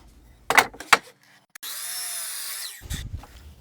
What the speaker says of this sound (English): while our saw is still set to a 15-degree bevel, we're going to cut one more 2x4